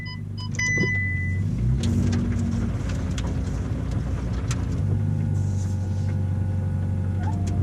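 A Ferrari 488 Pista drives along a canyon road, its engine a steady low rumble heard from inside the cabin, with a few brief electronic chimes at the start and tire and road noise underneath.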